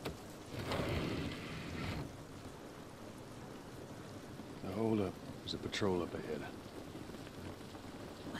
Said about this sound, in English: Like, the rain looks so good.